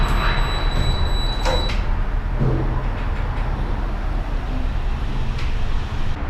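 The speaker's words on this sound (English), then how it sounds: "That's a slow elevator door." Slow elevator door sliding open near a bus route in San Diego, a steady low rumble with a few soft clunks and squeaks over constant traffic and transit background noise.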